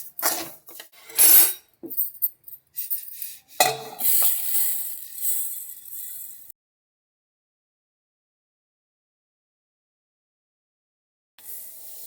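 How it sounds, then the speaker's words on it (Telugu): Sesame seeds being dry-roasted and stirred in a pan, with bursts of scraping and rattling clinks for several seconds, then a long silence and a final brief scrape at the end. "ఒక 2 నిమిషాలు వేయించుకుందాం నూగుల్ని."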